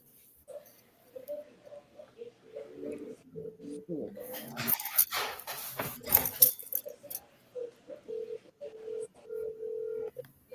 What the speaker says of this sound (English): Y'all can hear that ringing?